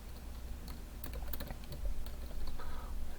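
Fingers type a file name on a computer keyboard, producing quiet, rapid, irregular key clicks at close range with no one talking.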